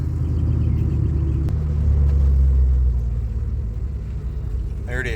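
A pickup truck driving a few city blocks, heard from inside as a steady low engine rumble that swells briefly mid-way, then eases off, with muffled talk and a short squeak at the end.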